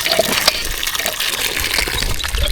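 Loud, steady rush of water gushing nearby, a continuous splashing flow with no talk.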